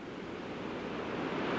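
Steady broadband rush of creek water flowing at Boundary Creek, a continuous wash of moving water that swells slightly louder toward the end, with no talk.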